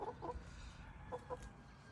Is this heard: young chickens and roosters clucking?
yes